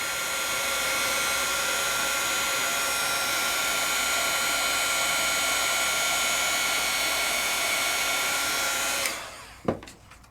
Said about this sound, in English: As it starts to turn, I will move my heat tool.